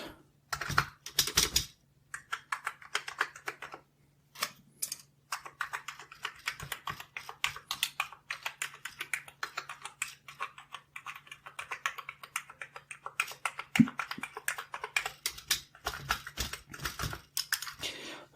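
Keys pressed on an Amiga 600 keyboard in a quiet room, rapid irregular clicks and clacks in bursts, close and fairly soft, with brief pauses between runs.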